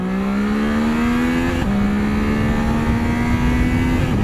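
A 2022 Triumph Tiger 660 Sport motorcycle accelerates hard from 40 to 80 on a highway, its engine note climbing steadily, dipping briefly at a gear change, then rising again; loud and close throughout.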